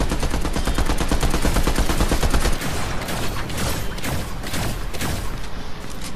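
Gunfire in the Fortnite video game: loud, sustained rapid automatic bursts, a dense machine-gun rattle that gives way to heavier, more scattered shots and continues without pause.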